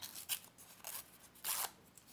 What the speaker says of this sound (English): the other way you can cut is straight edge with scissors